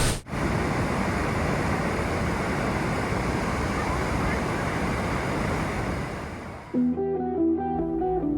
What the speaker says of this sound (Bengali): ওপর থেকে 65 থেকে 75 হাজার গ্যালন জল প্রতি সেকেন্ডে এখানে নিচে পড়ছে।